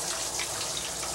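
Shower spray running in a home bathroom, a steady, close hiss of falling water that holds for about a second with no voices.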